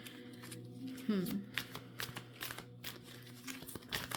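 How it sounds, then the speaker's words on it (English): Tarot cards are shuffled and handled close by in a quiet room, giving a run of soft riffling, sliding and slapping sounds with one louder flurry near the start, while a voice speaks softly now and then. "I'm only gonna pull a few tarot cards today"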